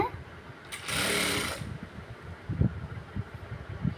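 A sewing machine stitching blouse fabric whirs in a short burst of about a second, loud and close, followed by quieter handling thumps and rustles of the cloth.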